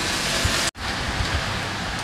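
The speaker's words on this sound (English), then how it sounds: "So here we go for another rain. It's heavy," Heavy rain pours down in Puerto del Carmen, Lanzarote, a loud, dense, steady hiss of rainfall that drops out in a brief gap before resuming just as strongly.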